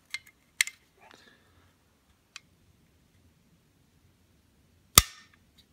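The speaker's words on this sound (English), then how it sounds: "dry firing it and letting that hammer hit" A Cobray Mac M11 hammer snaps forward during dry fire, a few sharp isolated clicks in a quiet room with the loudest single crack near the end.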